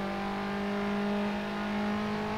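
A race car engine in a racing video game drones steadily at high revs through a corner at Francorchamps, a smooth sustained whine with no audible break for a gear change.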